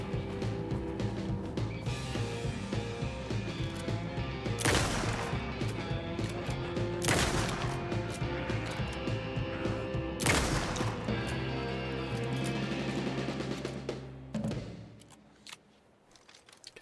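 Rapid gunfire from a weapon in a video game, a loud stream of shots broken by a few sharp heavy blasts, then cutting off into near silence at the end.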